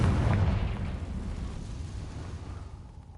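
A Confringo spell explosion in Hogwarts Legacy bursts as a loud, deep boom at the start, then rumbles and fades gradually over about three seconds with no voices.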